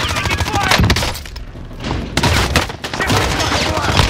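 Rapid bursts of gunfire from a gunfight in the video game Warzone, loud, close and densely repeated with brief pauses, with voices talking over it.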